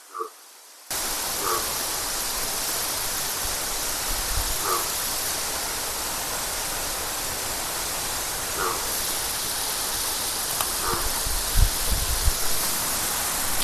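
Flowing water at a forest waterfall in heavy rain in Nallamala forest: a loud, steady broadband rush that starts abruptly and holds constant, with faint distant dog barks scattered over it.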